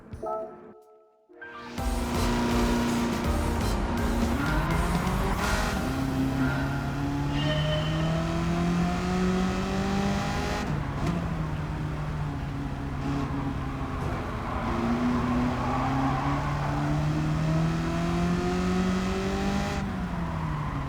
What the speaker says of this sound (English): I'll just put my fastest American car in there and do a quick 2 laps just to get the mileage.